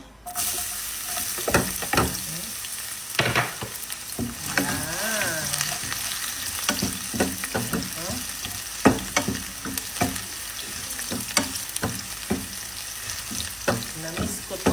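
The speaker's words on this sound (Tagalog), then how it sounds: "coconut oil. And then, tuto ka lang din sa kawali, ha. Lagay na natin si bawang." Garlic frying in coconut oil in a pan, with a steady sizzle broken by repeated sharp clicks and scrapes of stirring, close and fairly loud throughout.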